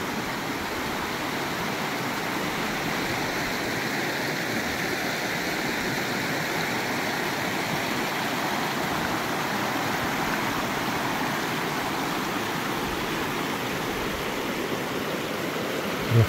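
A clear river rushing over rocks on a trout farm near Dullstroom and Lydenburg, a steady close hiss and gurgle of flowing water that holds even for the whole stretch, with no talking.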